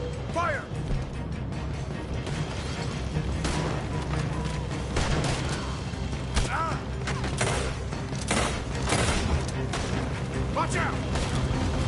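Battle gunfire: rapid volleys and booming shots pile up in a dense, loud, continuous barrage, with shouting voices mixed in throughout.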